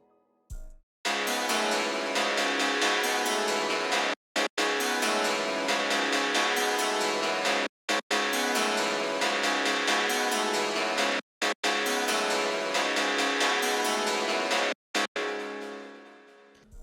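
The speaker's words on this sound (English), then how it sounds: "I'm using the bright metallic preset in Polysynths, and it sounds like this." Bright metallic polysynth preset from the Expand plugin playing a sustained chord pattern, dense and loud, with brief gated dropouts at regular intervals and no talk.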